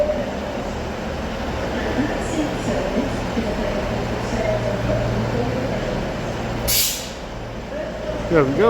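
A Northern class 146 train departs Stockport station with a steady low rumble and a brief hiss of air, and someone speaks briefly over it.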